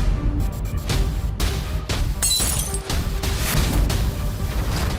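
Glass shatters loudly in a tense indoor drama scene, a sharp crash followed by tinkling shards and further smashing impacts across the clip, with no talk.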